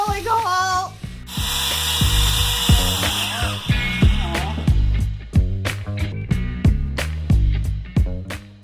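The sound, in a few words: drilling a hole in kitchen cabinetry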